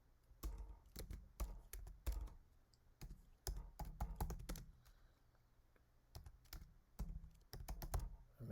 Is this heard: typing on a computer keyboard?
yes